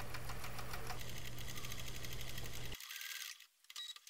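A sewing machine stitches along the bias binding of a coin purse with a fast, steady mechanical whir that runs for under three seconds, then stops abruptly, leaving faint room noise.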